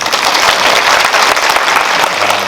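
An audience at a film screening Q&A in a Lotte Cinema hall applauds in a steady, dense wash of clapping that holds loud and even for the whole stretch.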